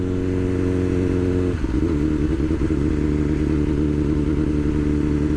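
A 2021 BMW S1000R sport motorcycle engine of nearly 200 horsepower idles with a steady low throb, then revs up, its pitch shifting and rough as it runs on loudly close by.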